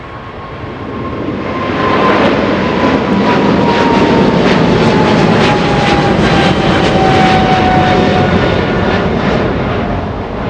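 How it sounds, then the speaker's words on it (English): An Eva Air cargo Boeing 777 freighter departing Los Angeles International Airport for Taiwan roars loudly and close, a powerful sustained jet rumble with a thin whining tone that slowly falls in pitch as it passes, no talk. "Eva Air cargo flying to Taiwan. That is a 777 freighter getting a move on."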